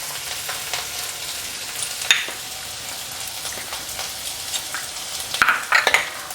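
Chopped capsicum and grated ginger frying in a pan, a moderate, continuous sizzle with light stirring scrapes and a few louder crackling spurts toward the end.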